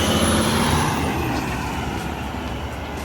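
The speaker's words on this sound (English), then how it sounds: "truck left the area" A truck engine rumbles loudly at close range and slowly fades as it pulls away from a construction site, with a brief high whine at the start.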